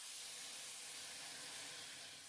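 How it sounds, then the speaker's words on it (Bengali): Water poured into a hot pan of fried vermicelli sends up a loud, continuous steam hiss and sizzle that holds steady throughout. "এখন আমি সিমুইটা সেদ্ধর জন্য আমি জল দিয়ে দিচ্ছি।"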